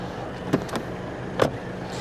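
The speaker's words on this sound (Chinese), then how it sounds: "我很喜欢这辆车的开关门的声音哦，给你们看一下。" A 2016 Mercedes-Benz C200 Avantgarde W205's door is worked, giving two solid, close thuds with a faint latch click between them, set against a low steady hum inside the car.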